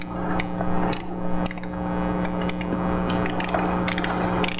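A ratchet wrench turning a spark plug on a Dodge Charger, with close, sharp ratcheting clicks in quick uneven bursts over a steady hum.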